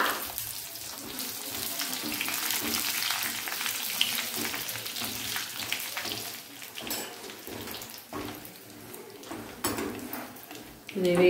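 Mustard seeds fry in a pan while amla pickle is being made, a steady close sizzle and crackle with stirring, under a speaking voice.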